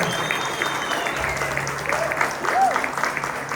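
A church congregation applauding, steady dense clapping from a crowd filling the room, with a few voices audible under it.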